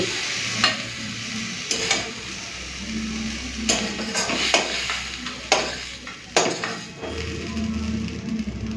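Water spinach fries in a pan together with bitter gourd that was fried beforehand, giving a close, steady sizzle broken by repeated spatula scrapes and knocks against the pan.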